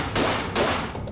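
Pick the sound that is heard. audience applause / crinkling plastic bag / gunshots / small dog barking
gunshots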